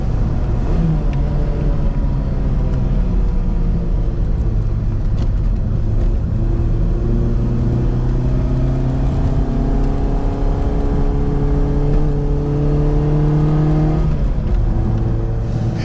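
A 1977 Autobianchi A112 small car drives through a tight S-bend, its engine droning steadily and rising and falling in pitch as it shifts and revs, loud and close throughout.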